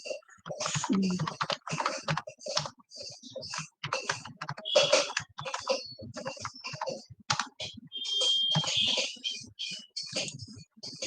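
Fingers type a sudo command on a computer keyboard, with rapid runs of close, clicky keystrokes and short gaps, steady and moderately loud throughout.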